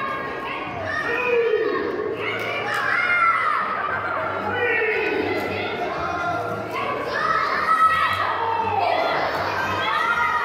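At a live wrestling show, a crowd with many children shouts and cheers continuously. Excited voices rise in overlapping waves throughout the whole stretch.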